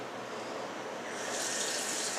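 Water is poured into a blender for a fruit-leather puree, a soft steady splashing stream that brightens as it continues.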